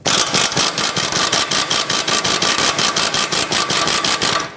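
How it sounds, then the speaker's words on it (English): A loud air impact wrench hammers in a fast, steady rattling burst, pulsing evenly for several seconds close up, trying to break free a rusted nut on a 2013-2020 Nissan Pathfinder front strut. "I'm going to try and break it free with my air impact first"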